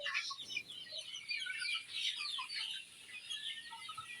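A 60-day-old native desi chicken giving soft, faint clucks and chirpy calls in a quiet setting, scattered irregularly with no talking.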